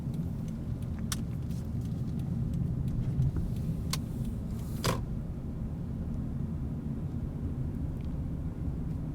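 Car driving along Ann Street through Jewett City, Connecticut, with a steady close engine and road rumble throughout, broken by a few sharp creaks or clicks from inside the cabin.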